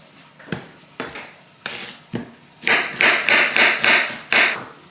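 Knife chopping an onion on a board in a kitchen: a few spaced single chops, then a quick run of rhythmic, close, sharp cuts.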